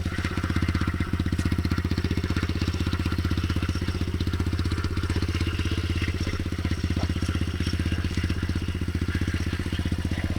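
A small pit bike motorcycle engine idles steadily nearby, its rapid, even putter running unbroken and fairly loud throughout.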